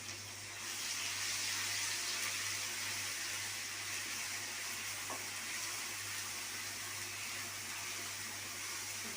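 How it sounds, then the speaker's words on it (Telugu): Curry seasoning of garlic and ginger paste sizzles and fries in a pan while being stirred, a steady close hiss with faint scraping and no talking. "బాగా పచ్చి వాసన పోయేంత వరకు మనం ఇలాగ బాగా వేసుకోవాలి."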